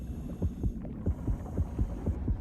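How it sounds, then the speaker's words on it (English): Shark heartbeat in the underwater game Depth, a deep rhythmic thumping pulse of paired beats repeating steadily over a low hum, loud and close with no talk. "Heartbeat's getting closer."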